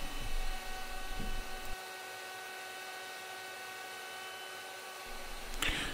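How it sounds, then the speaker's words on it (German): A Shaper Origin handheld router mills a wooden stool seat, its motor holding a loud, steady high-pitched whine close by, with the cutting noise briefly easing midway and a short burst near the end. "Nun fräse ich die Sitzfläche, die Außenkontur sowie die 3 Zapfenlöcher für die Beine."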